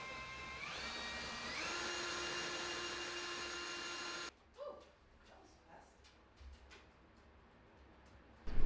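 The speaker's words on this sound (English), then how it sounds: "I have to drill a hole right here." A power drill whirs steadily while boring a hole into a wall beside a light box, its pitch climbing as it spins up, then cutting off abruptly and leaving faint handling clicks.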